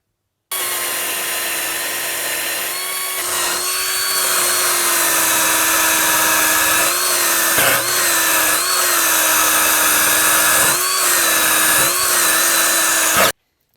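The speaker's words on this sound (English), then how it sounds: "now we can take the wire wheel and clean off the area right here" A wire wheel spins against brake mounting surfaces during a brake service, giving a loud, steady power-tool whine with a rough, scraping edge that runs almost unbroken for about thirteen seconds, with no talking.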